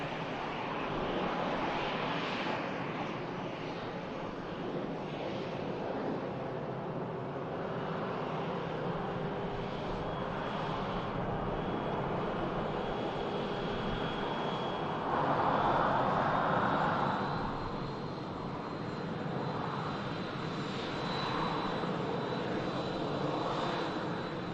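Business jet departing Manchester Airport, a sustained distant engine roar with a rising whine, swelling briefly louder midway before easing, heard alone without talk.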